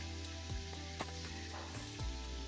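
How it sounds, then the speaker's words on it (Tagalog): Chicken inasal drumsticks stir frying in hot oil, a steady broadband sizzle with a few sharp clatters of stirring and utensil knocks, close and continuous without talk. "Atin lang yan siyang iprito, i-stir fry."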